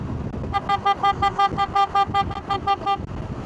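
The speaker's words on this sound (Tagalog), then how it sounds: "kailangan sunod-sunod yung busina mo para ma-aware yung mga paligo" A motorcycle horn honks in a rapid run of about ten short, evenly spaced toots, loud and close, over a rumbling engine.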